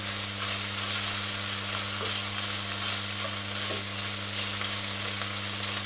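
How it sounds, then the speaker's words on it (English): A small amount of beef sears in a hot pan with a loud, continuous, even sizzle close by, with a faint low hum underneath. "I just want to put a good sear onto the beef"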